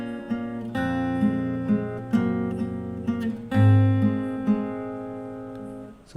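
Fingerstyle guitar plays a fuller arrangement of a song, with plucked two-note pairs and sustained bass notes ringing together in a close, steady phrase.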